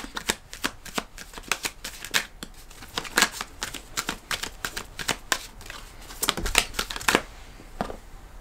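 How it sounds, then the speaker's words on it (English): Tarot cards are shuffled for a reading, producing close, crisp riffling bursts and soft slaps in an irregular rhythm, with brief pauses between shuffles. "I'm gonna pull cards."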